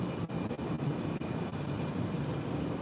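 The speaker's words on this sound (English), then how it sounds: "See the Sky train just coming past down there" A Sky train passes over the roads at a distance, producing a continuous broadband rumble with faint rhythmic clicks of wheels over rail joints.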